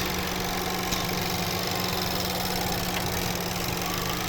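A 2018 Buick Cascada's 1.6 turbo petrol engine idles steadily with the hood open, a close, continuous hum carrying a faint rhythmic ticking and a constant low tone.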